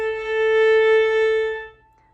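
A violin bowed lightly with little upward force and little weight, giving a wispy, small tone: one sustained note holds steady for under two seconds, then stops, leaving near silence.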